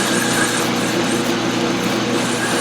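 Lathe parting tool narrowing a metal workpiece for a plasma cutter table part, a loud steady high-pitched cutting whine with machine hum, continuous throughout.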